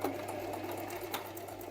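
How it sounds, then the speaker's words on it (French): A sewing machine stitches a weekend bag, its needle running fast and steady in a continuous close mechanical whir throughout the short stretch. "on va coudre dans l'autre sens"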